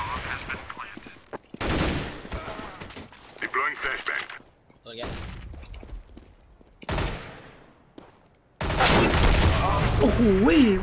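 Gunfire in a shooter video game trading shots against an M4 rifle: repeated loud bursts and rapid volleys of shots, with a dense sustained barrage near the end, while a player talks excitedly between and over the shooting.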